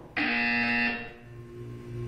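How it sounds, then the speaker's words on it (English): Buzzer in the video game Portal 2, a single harsh, steady electronic buzz lasting under a second that cuts off abruptly, leaving a faint electrical hum beneath a quiet room tone. "When you hear the buzzer, look up at the ceiling."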